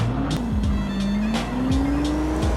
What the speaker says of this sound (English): can you hear the turbos spool up?